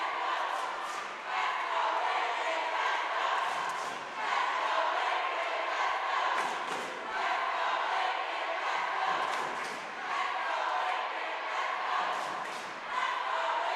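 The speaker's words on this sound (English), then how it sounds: "the crowd is hyped, ready to go" Crowd at a Lincoln girls basketball game against James Madison, a steady loud roar of cheering and shouting voices with occasional thuds, continuous throughout with swells and dips.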